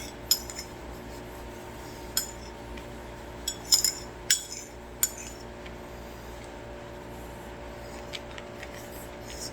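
A DIY face mask is stirred in a bowl, giving scattered light clinks and taps of a utensil against the bowl over a quiet room hum.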